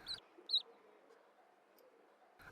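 Chirps from birds ring out on a school forest walk: two short, high calls close together, a faint quiet stretch, then another brief call at the end.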